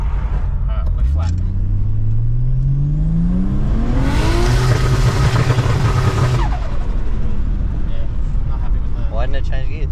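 Nissan Skyline R31 sleeper pulling hard at full throttle, engine pitch climbing steadily through a long loud run, then holding high before easing off, with people talking over the car's roar.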